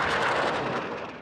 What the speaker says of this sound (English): gunfire mixed with the sound of explosions